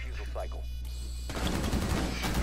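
Rapid automatic gunfire in a zombie shooter game bursts in after a moment of low droning background, a dense loud rattle filling the second half of the brief moment.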